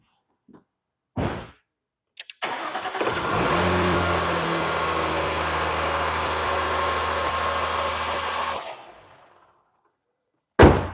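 A 2017 Jaguar F-Pace S SUV engine cranks and catches, then settles into a steady, fairly loud idle for about six seconds before shutting off. Brief door or mechanical clunks come before and after, with no talking.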